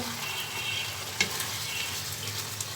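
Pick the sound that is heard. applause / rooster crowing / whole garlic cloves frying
whole garlic cloves frying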